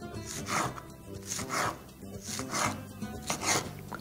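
A serrated knife saws through lettuce for a tomato and tuna salad, giving a steady series of close, rasping back-and-forth strokes at an even rhythm.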